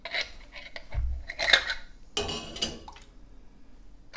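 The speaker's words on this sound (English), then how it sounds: "Get the lid on." A metal lid and ring go onto a glass canning jar, giving a few close, light clinks and scrapes, a brief low thud, then a sharper rattling scrape before quieting.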